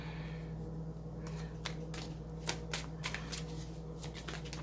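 Tarot cards being shuffled close by in a series of quick riffling, flicking bursts over a steady low hum, without speech.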